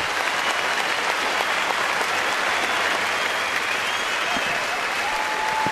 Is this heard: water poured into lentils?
no